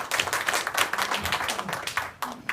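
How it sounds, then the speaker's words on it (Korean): Audience clapping at a Korean press conference for an amateur orchestra festival, a fairly faint, brief patter of hands with some voices mixed in. "박수로 맞아주시기 바랍니다."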